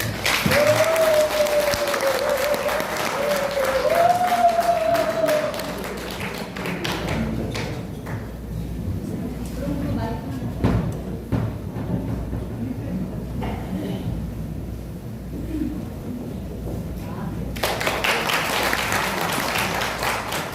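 Audience applause welcoming a speaker onstage at a pastors' alumni autumn trip talent show, a long steady round of clapping from a room of people that fades down midway, with a brief tone near the start.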